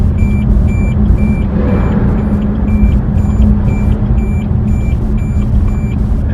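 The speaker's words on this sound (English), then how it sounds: "as long as the turn signal is on, it's gonna beep and it's gonna flash." Blind spot monitoring chime in a 2019 Corvette Z06, a run of evenly spaced electronic beeps repeating quickly over loud, steady road and engine drone from inside the moving car.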